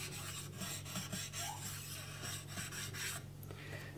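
A knife is sharpened on a soft, very fine 12,000 grit Morihei whetstone, giving quiet, close scraping strokes that repeat in an uneven rhythm with brief pauses and no talk.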